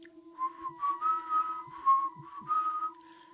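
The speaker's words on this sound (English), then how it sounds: "he hears this whistling, like coming from outside of the house" A tuneful whistle rises and falls in short melodic phrases, steady and moderately loud, with a faint low hum underneath.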